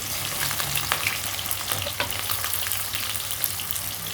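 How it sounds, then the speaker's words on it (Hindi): Sliced onions frying in hot ghee crackle and sizzle loudly and continuously close by, with a few stirring scrapes in between. "गरम घी में प्याज डालने के हमें 2 फायदे हैं"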